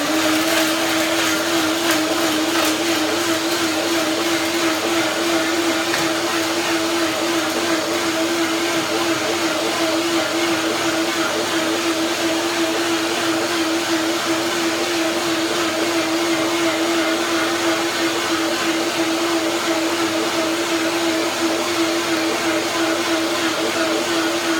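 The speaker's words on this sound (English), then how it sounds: "Blender dance." A blender whirs loud and continuous for about 25 seconds, steady and close, blending a runny macadamia nut cream with water.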